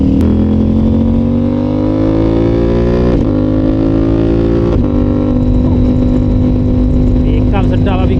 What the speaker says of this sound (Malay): Kita buat video PO sound untuk Exzos Yoshimura dengan strip pipe lah.